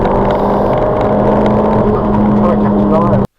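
A Ford Fiesta ST RT330 accelerates hard on a race track, its engine note loud, steady and close throughout before cutting off abruptly at the end.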